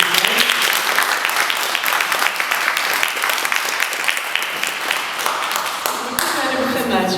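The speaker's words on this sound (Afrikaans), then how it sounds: "ons wil Karin 'n hande klap asseblief." A room full of festival-goers applauds a panellist at a crime festival panel discussion in Elgin Grabouw. The dense, sustained clapping runs loudly throughout, with voices talking over it near the end.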